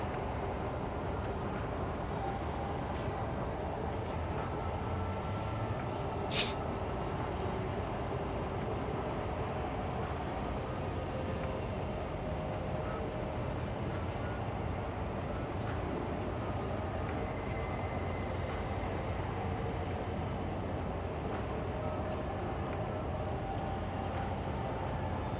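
A shuttle train in the video game Star Citizen approaches a station platform, heard as a long, steady low rumble with a faint whine that holds at an even level, plus one brief high click partway through.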